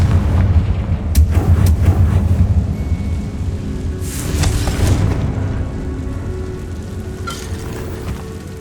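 Booming Confringo fire-spell blasts from Hogwarts Legacy pound heavily in the opening seconds, then a sharp fiery crack hits midway, and lighter sizzling crackles trail off.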